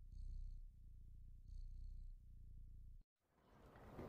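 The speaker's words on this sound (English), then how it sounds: "I hear the purring." A cat purring in the video game Stray, heard as a soft, steady rhythmic purr in two pulsing bursts over a low hum, cutting to brief silence before a hissy loading-screen noise rises.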